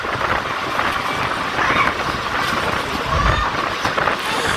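Jaffar Express passenger train running between Lahore and Rawalpindi, heard from on board as a steady loud rumble of wheels and carriage noise with faint rattles throughout.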